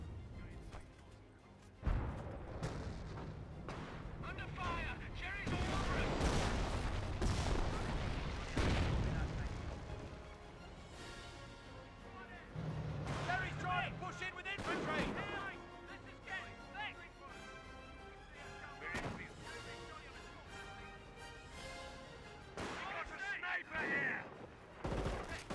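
Rocket barrage and artillery fire in Company of Heroes, a rolling stretch of loud booms and crackling blasts that stack up over about 25 seconds, with some fainter explosions and distant gunfire between them and occasional voices underneath.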